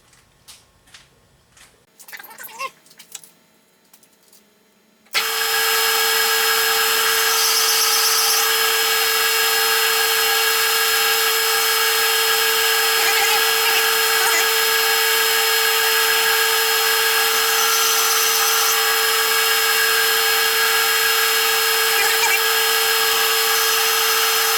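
Steady high-pitched whine of a lathe taking a single-point threading cut at 24 threads per inch on a suppressor end cap, starting abruptly after a few quiet clicks and holding loud and constant throughout.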